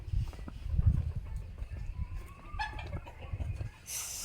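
Native chickens cluck on a poultry farm in a few close, scattered calls over low thumps and shuffling, with a brief higher squawk near the end.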